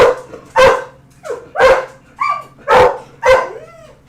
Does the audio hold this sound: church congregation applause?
no